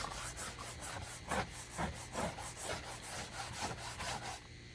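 A brush scrubs water stains off a boat hull in quick, rhythmic back-and-forth strokes, close and fairly quiet, with no talking.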